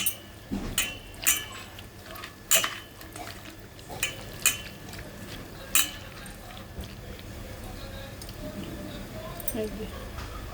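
Prawns being mixed by hand with spices and raw mustard oil in a bowl, giving soft squishy, wet kneading sounds punctuated by several sharp clinks of utensils against the dish, with a voice talking through it.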